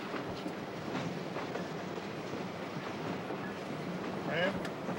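Train running steadily along the rails in a drama, a dense continuous rumble with faint rhythmic clatter and a brief squeal near the end, heard from inside the cab.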